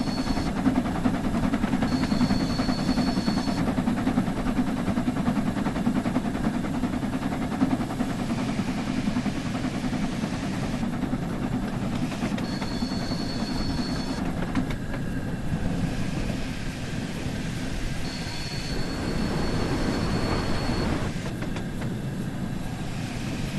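Steady chugging rumble of an LMS Stanier Class 8F steam locomotive running on the Peak Forest Railway in Train Sim World 3, a continuous loud low roar with a faint high whistle-like tone recurring three times.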